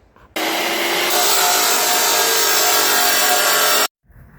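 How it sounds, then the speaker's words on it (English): A drill press bores into a metal bracket during a Chevelle restoration, a loud continuous grinding whir that starts abruptly, holds steady for about three and a half seconds, then cuts off. "we're gonna go ahead and take it over to the drill press"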